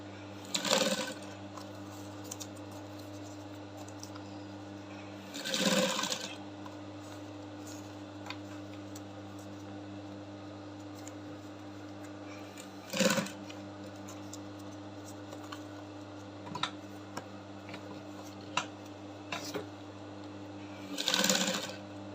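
A sewing machine stitches a boning line down on a corset in a few short, faint bursts separated by long pauses, over a steady low motor hum and occasional small ticks.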